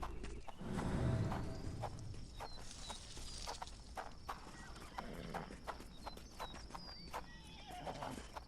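A horse in Sherlock Holmes The Awakened, set in New Orleans, whinnies with a rising cry, followed by a steady run of hoof clops, fairly near and clear.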